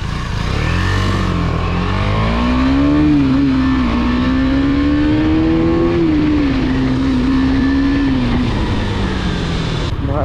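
A KTM Duke 250 motorcycle hums along on the road with a smooth, fairly restrained exhaust note, engine pitch climbing and easing as the rider works the throttle, steady wind rush underneath.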